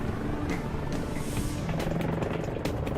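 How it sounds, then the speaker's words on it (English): An EH-101 military helicopter's massive main rotor spins steadily nearby, a dense, continuous roar with thumping blade texture and brief higher swishes over it. "Every second the EH-101 is in flight, its massive main rotor is shoving up to 45 tons of air out of its way"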